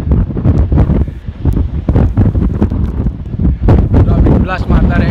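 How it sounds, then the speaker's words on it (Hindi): Strong monsoon wind on the Kalsubai trek in Maharashtra buffets the microphone in loud, gusty bursts, roaring and rustling throughout, with occasional voices faintly mixed in. "इतना ज़ोर से हवा चल रहा है ना"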